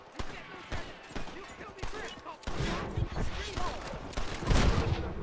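Bursts of gunfire from the Red Dead Redemption western video game, rapid sharp shots scattered over several seconds, moderately quiet, with a voice talking over them.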